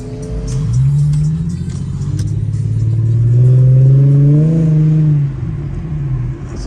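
An Audi S4 with big body wheels accelerates hard during a night street race in Baltimore, its engine note climbing steadily and loudly close by, then easing off near the end, with no talking.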